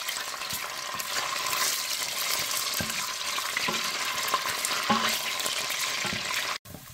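Tomato frying in oil in a saucepan for jollof rice gives a steady, bright sizzle, punctuated by soft stirring clicks, before it drops out sharply near the end.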